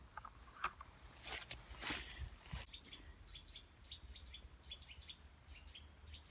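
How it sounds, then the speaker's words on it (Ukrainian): Birds chirp and tweet in short repeated calls against a quiet outdoor background, after a few seconds of louder rustling at the start. "Чуєте, як співають, пташки ніби весну відчувають."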